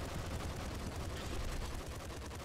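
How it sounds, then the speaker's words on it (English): Submachine gun firing on full auto in the top-down shooter Nuclear Throne, a dense, continuous stream of rapid shots that runs steadily and evenly loud across the whole stretch. "Submachine gun, just full fire."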